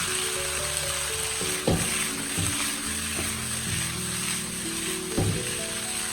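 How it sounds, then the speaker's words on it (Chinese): Drained cucumber stir-fries in oil in a wok over high heat, a steady bright sizzle with occasional scrapes and clanks of the spatula, no voices. "接下来把控干水分的黄瓜倒在锅中，全程开大火，充分的翻炒均匀"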